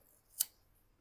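A pair of scissors gives a single quick, crisp snip while cutting double-sided tape for a Samsung Note 8 battery replacement, faint and close in a quiet room.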